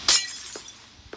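Glass blocks are placed in a video game while building an underwater house, heard as a bright, sharp glassy shatter up front followed by two fainter, softer clinks.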